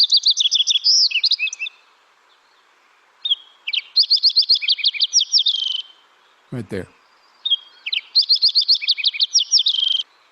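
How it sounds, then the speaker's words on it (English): Fox sparrow song at Lake Tahoe: several bright, rich whistled phrases with quick sliding notes, repeated in bursts with short pauses, near and clear; someone briefly speaks once midway. "I think fox sparrows have a lot of different songs they sing"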